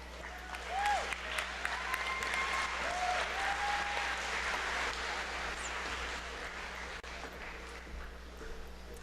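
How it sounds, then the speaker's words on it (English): A crowd at a political rally in the Birch Run Expo Center applauds to welcome a speaker to the stage, a sustained wash of clapping at moderate distance over a low hum. "we want to welcome to the stage Kathy Burden"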